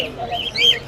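Caged budgerigars at the Mirpur bird market chirp and tweet in close, bright calls over a low murmur of market background noise.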